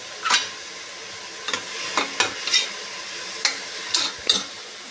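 Beans frying in a pan give a soft, steady sizzle, broken by about eight sharp scrapes and taps as they are stirred, close up with no voices.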